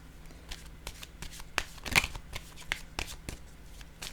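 A card is laid down during a card reading, giving soft papery slides and a brief crisp snap against a quiet room hum.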